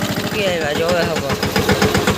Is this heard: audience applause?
no